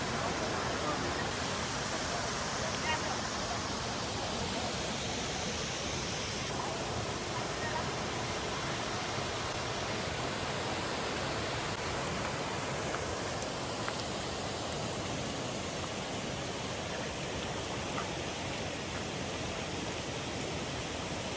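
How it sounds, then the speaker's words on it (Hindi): Devkund Waterfall in Balasore, flowing water: a steady, dense, broadband roar of falling water that continues without a break throughout. "पानी का बहाव देखने को मिलेगा वाटरफॉल में।"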